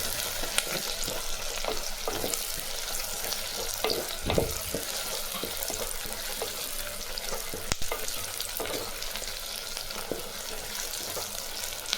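Small onions fry in a pan for a garlic kuzhambu, giving a dense, steady sizzle close by with occasional soft scrapes and stirring knocks.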